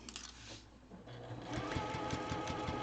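A sewing machine stitches across a quilt square in a quilt-as-you-go block, running steadily up close with a rapid mechanical patter that grows louder partway through.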